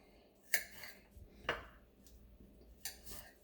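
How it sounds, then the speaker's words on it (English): A knife slices through zucchini on a cutting board, quartering it, with a few separate sharp knocks spaced about a second apart and soft scraping between them. "So I'm quartering the zucchini."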